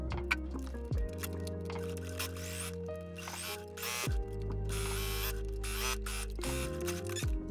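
A sewing machine stitches a front facing to a skirt front yoke, its motor whirring in steady loud runs broken by brief pauses, close and alone with no talk.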